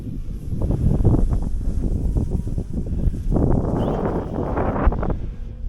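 Gusty wind buffets the microphone at an RC flying field as a Turbo Timber plane flies on a windy day, loud irregular rumbling surges that rise and fall with no voices.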